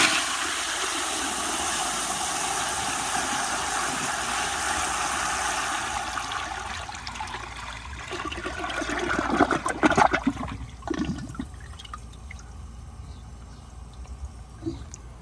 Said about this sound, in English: I'm gonna kind of get a close-up flush like this.